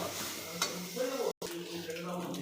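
Eggs fry with potatoes in a hot pan, giving a steady close sizzle with occasional stirring scrapes and a brief dropout midway.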